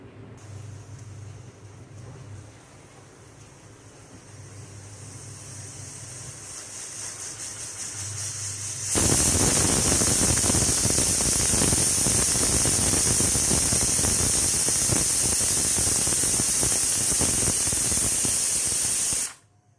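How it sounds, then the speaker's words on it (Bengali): Pressure cooker steam starts as a faint hiss and then turns into a loud, sustained, steady rush for about ten seconds before stopping abruptly. "এবারে সব বেরিয়ে গেছে, স্টিমটা একটু অল্প আছে, বাদ করে নিই।"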